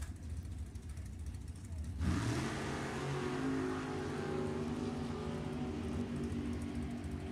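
Super Gas drag race cars, a '67 Camaro and a '61 Falcon, launching down the strip at a drag racing event; quiet crowd ambience gives way to a sudden loud engine roar that rises in pitch and holds as the cars pull away, with announcing voices faintly underneath.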